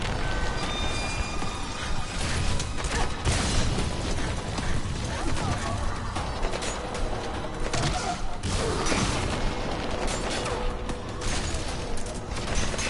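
Rocket launcher blasts and tumbling rock debris in Metal Gear Solid V play out as a dense, continuous clatter of thuds, crashes and mechanical rattling, fairly loud throughout with a faint voice underneath.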